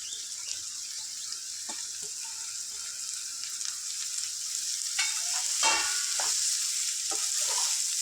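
Half a kilo of small-cut bottle gourd pieces with ginger garlic paste being stirred in a frying pan for curry: a steady soft sizzle with occasional scraping stirs, close, without speech.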